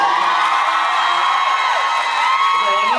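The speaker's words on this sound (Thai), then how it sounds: "ขอเสียงปรบมืออีกครั้งได้ไหมครับ" A concert audience at a Thai pop stage show cheers loudly, with dense crowd noise and high whoops and screams sustained throughout.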